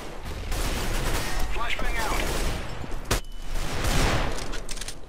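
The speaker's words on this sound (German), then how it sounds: "Achtung, die schießen durch den Rauch" Gunfire in Counter-Strike: Global Offensive on the Office map, continuous loud rattling bursts of rifle fire with a sharp crack near the middle, filling the whole stretch.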